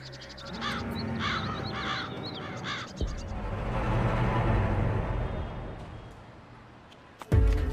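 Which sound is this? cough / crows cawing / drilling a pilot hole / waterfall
crows cawing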